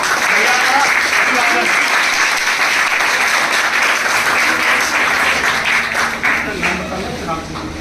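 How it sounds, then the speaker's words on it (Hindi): Loud, sustained applause from a school audience at a Class VIII election-themed event, a thick continuous roar of clapping that holds strong for several seconds before tapering slightly at the end. "एक और जोरदार तालियों के साथ"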